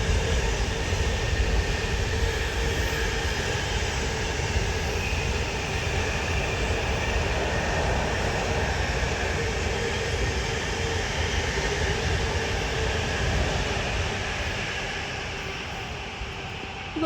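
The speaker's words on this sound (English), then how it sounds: "Here's another Freight Class 66 passing through south of the West Coast main line" A Class 66 diesel freight train passes on the low line of the West Coast Main Line at Tamworth station, a loud steady roar of engine and rumbling wagons that holds for the whole stretch and eases slightly near the end, with no talk.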